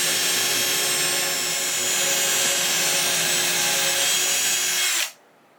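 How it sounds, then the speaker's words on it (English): A power drill with a bit sized for a violin bores a string hole through a wooden violin peg, a steady, loud whine that holds for about five seconds and then stops abruptly into near silence. "he holds the peg down firmly and drills where he set the mark"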